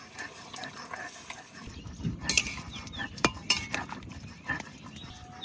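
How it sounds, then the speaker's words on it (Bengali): Jute leaves (pat shak) seasoned with green chili, ginger paste, salt and turmeric are stirred in a kadai. The stirring makes irregular metallic scrapes and clinks over a low background rumble. "এবার নাড়াচাড়া দেবো শাক"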